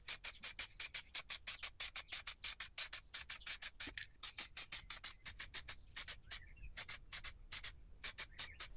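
Sandpaper rubs over the painted body panel of an Alfa Romeo 156 in rapid, steady strokes, a close, dry rasping rhythm of about three strokes per second with brief pauses between bursts.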